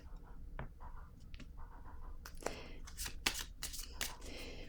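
Tarot cards are shuffled close by, giving a run of quick riffling and flicking bursts that start sparse and grow denser and sharper toward the end, over a faint low background hum.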